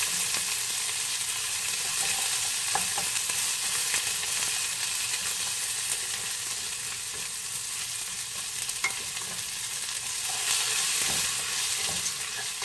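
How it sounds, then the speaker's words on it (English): Chopped onions and rice stirred and fried together in a pan for Spanish rice, giving a steady bright sizzle with occasional soft scrapes of the spoon, close up and continuous, with no voices. "I just stir these around a little bit to saute them and get that raw flavor out of the onions, and then go ahead and mix them in with the rice and continue frying"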